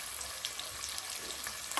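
Onion, ginger and garlic frying in oil for chicken biryani, a soft steady sizzle with faint crackles throughout, fairly quiet and close, with no talking.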